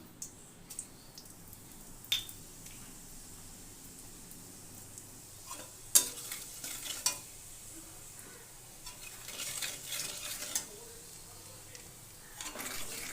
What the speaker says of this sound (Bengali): মাছ ভাজার তেলের মধ্যে দিয়ে দিলাম গোটা জিরে, দিয়ে ভালো করে নেড়ে নিলাম।